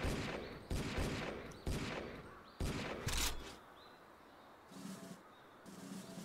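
Several loud, close gunshots from a gun in the game Deeeer Simulator crack in an uneven series, then fade into quieter game ambience with faint chirps and a low hum.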